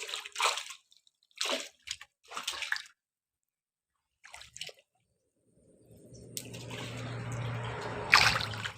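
Water poured from a bucket while the water in a fish tank is changed, beside a lake. Bursts of splashing come first, then a steady close pouring rush with a louder surge near the end.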